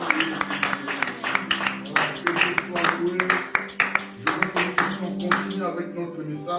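Congregation clapping in a church service, a dense steady patter of many hands sustained for about five seconds over music, fading out at the end.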